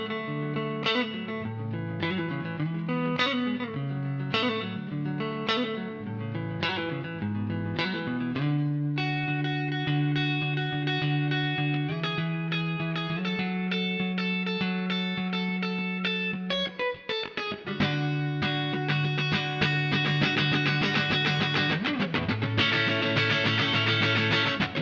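An electric guitar runs through the Froosh Amp plugin with the reverb cranked, playing clean picked notes and then sustained chords that ring out in a long, washy tail, loud and alone with no talking.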